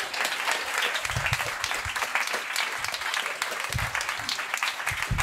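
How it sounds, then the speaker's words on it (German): A stand-up comedy show audience applauds, a dense, continuous burst of clapping filling the room for several seconds. "mal Applaus für diese geile Spielmannslust"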